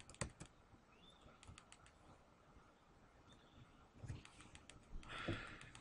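Web address being typed on a computer keyboard: quiet, close key clicks in irregular bursts, pausing mid-way, then a louder flurry of keystrokes near the end.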